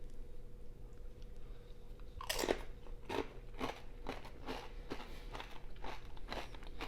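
A spicy chicken taquito is bitten and chewed close up, with a loud crisp first crunch followed by a string of quieter crunchy chews over a faint, steady background hum.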